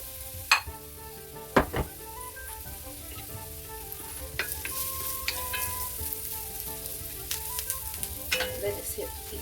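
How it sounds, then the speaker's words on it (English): Carrots and thyme sauté in coconut oil in a pan, a soft continuous sizzle broken by a few sharp utensil clanks against the pan, with faint tonal background music. "And I'm just sauteing it for 5 minutes until it's a little bit tender."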